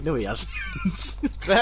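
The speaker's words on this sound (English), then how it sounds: "That's my cat." A pet cat meows several times in quick succession, clear and close, mixed in with a person talking over and between the calls.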